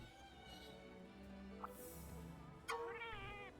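A cat meows in the video game Monster Hunter Rise Sunbreak, a short tonal call near the end over a quiet background of game music and ambience, with no talk.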